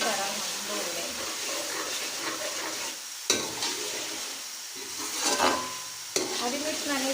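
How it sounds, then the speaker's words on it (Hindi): Green chilli and dry coriander paste frying in oil in an aloo chicken curry masala, a steady hissing sizzle broken by a few sharp stirring knocks against the pan. "अब इसमें हम हरी मिर्च और सूखा धनिया का जो पेस्ट है वो शामिल करेंगे और इसको अच्छी तरह हम भून लेंगे"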